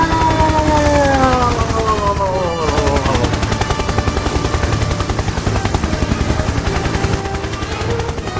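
A helicopter spins out of control in a hurricane, a loud steady rotor chop beating rapidly throughout, with rising and falling whining tones over it in an animated scene.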